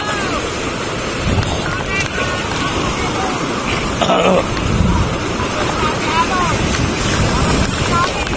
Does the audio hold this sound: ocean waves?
yes